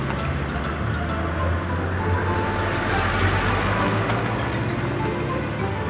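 Cartoon dump trucks roll off a ferry onto the shore, a steady, fairly loud rumble of heavy engines running continuously with no pauses.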